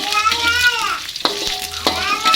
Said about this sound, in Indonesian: Ditumis sebentar